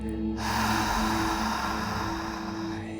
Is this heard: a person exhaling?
yes